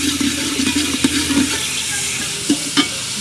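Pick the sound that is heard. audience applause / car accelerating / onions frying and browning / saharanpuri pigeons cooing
onions frying and browning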